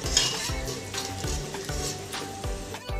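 Masala being stirred into cooked mutton in a pan for a spicy red curry, with continuous sizzling and a steady rhythm of spoon scrapes against the pan, close and moderately loud, with no voices.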